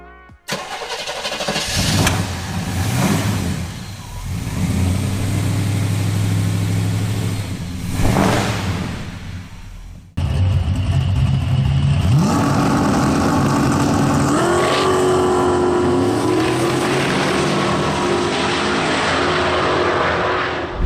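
Holden HQ Monaro GTS 350 with a Chevrolet 5.7-litre small-block V8 revving loudly, rising and falling surges followed by a sustained roaring run and changing engine pitch, close and dominant.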